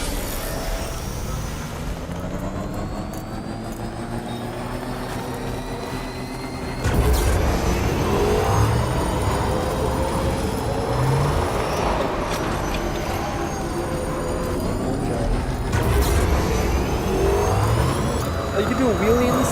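A motorbike engine drones steadily in the video game Death Stranding, with a continuous mid-level rumble and changing pitch as the bike is driven, while a person talks over it throughout.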